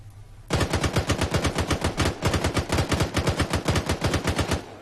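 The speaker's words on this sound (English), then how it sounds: "I'm dumping this ammo." Sustained automatic machine gun fire during a military convoy training game session, a rapid steady string of loud, close bursts running for several seconds with no talk over it.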